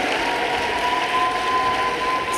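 Steady applause from a large audience at the closing ceremony of an international family planning conference, a continuous even clatter of many hands with no voices over it.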